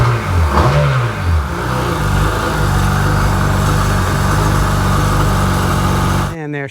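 Seadoo 951 Di jet ski engine, worn and hard-starting after sitting, cranks and catches with a loud, steady mechanical drone and rising revs at the start, running continuously before cutting off abruptly at the end.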